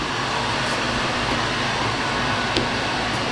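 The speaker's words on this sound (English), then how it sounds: "I have the heat gun on medium." A heat gun set to medium blows steadily while warming 3M adhesive tape on a 2024-up Mustang rear ducktail spoiler, giving a constant close broadband rush of air and fan noise with no talking.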